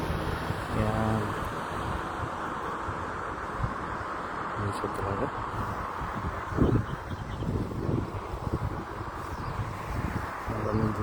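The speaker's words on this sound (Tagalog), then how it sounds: "malakas ang hangin kasi landa yung electric fan" Steady rumbling wind from an electric fan buffeting the microphone, broadband and constant, with a person talking briefly underneath.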